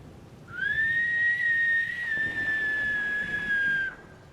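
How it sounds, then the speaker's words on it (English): A steady, clear whistle from the video game Skyrim holds one sustained, slightly wavering tone for about three and a half seconds, loud and close with no talking over it. "That's a good whistle."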